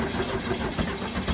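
A Pontiac Fiero engine, freshly power washed, rumbles loud and close in a dense, steady roar with slight pulsing, as if just fired up and settling.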